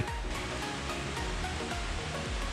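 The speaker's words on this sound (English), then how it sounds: "Natural pool as they call it, but in reality it's a river stream" A river stream rushing at a natural pool at Vythiri Resort in Wayanad, Kerala: continuous close, loud churning water with a steady broadband roar, and no talking.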